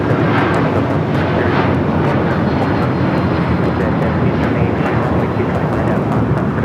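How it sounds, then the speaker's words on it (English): A United Airlines Boeing 757-200 takes off from LAX, its jet engines producing a broad, steady, loud roar heard from a distance that holds constant throughout, with no talk. "United Airlines 247 taking off to Newark on the 757-200."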